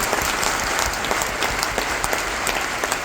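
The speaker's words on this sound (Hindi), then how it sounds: "बहुत बड़ी ताली होनी चाहिए" An audience at a talk on ganoderma claps steadily, a dense, loud wash of applause with no voices rising above it.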